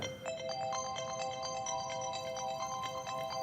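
A phone ringtone plays steadily, a bright repeating electronic melody that sounds throughout with a soft background hum beneath it.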